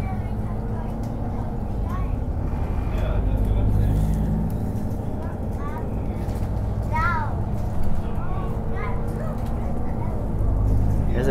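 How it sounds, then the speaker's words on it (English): Transperth bus 2600 on route 291 from Redcliffe Station to Midland, with a steady low engine rumble and road noise inside the cabin, nearby passengers chattering quietly over it. "We're on bus"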